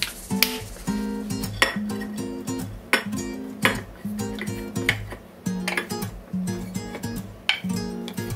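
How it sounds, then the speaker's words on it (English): Pots and dishes loaded into a dishwasher after meal prep, with a rapid series of close metallic clanks, clinks and ringing pings as pieces knock against each other and the rack. "I need to put that away so that I can put the pots into the dishwasher"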